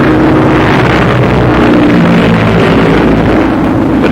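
Piston engines of WWII fighter aircraft, P-47 Thunderbolts and twin-engine P-38 Lightnings, drone in a steady loud roar with a low rumbling hum throughout and no break.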